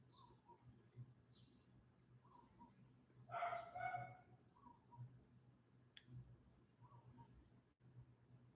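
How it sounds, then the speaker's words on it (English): A dog barks in the distance, a brief faint cluster of barks midway, with scattered bird chirps and low background hum around it. "I'm sorry about the dog barking"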